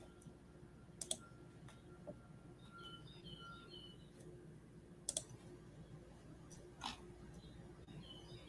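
Sharp computer mouse clicks at a trading desk, a few isolated snaps and double clicks scattered over a faint steady room hum, with no talking.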